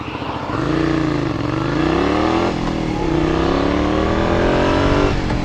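A motorcycle engine revs on a Japanese road. Its pitch rises in repeated sweeps, drops briefly, then climbs again, loud and close, with no voices.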